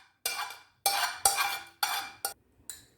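Grated potato is added to a kebab mixture in a bowl, heard as about six distinct scraping clinks of a spoon against the bowl, each followed by a brief pause.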